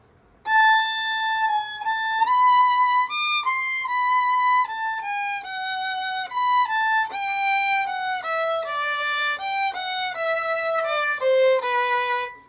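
Solo violin plays a steady run of separate bowed notes in groups, each group's first note stressed and held slightly longer, clear and close.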